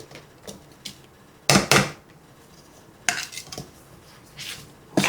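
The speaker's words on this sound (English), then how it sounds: "now I'm going to put my apples in." Apples tumble into a mixing bowl already holding room-temperature eggs, each drop a sharp clattering knock against the bowl, with a few bursts spaced over several seconds and quiet gaps between.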